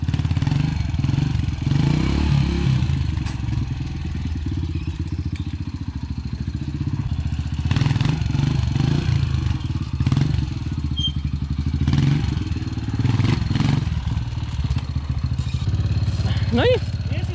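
A motorcycle engine revs and idles close by, with thumps and clatter, while people talk over the engine noise.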